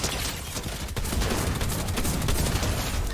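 Gunfire in the video game Fortnite comes as a rapid, loud burst of repeated shots that runs almost continuously through the short stretch.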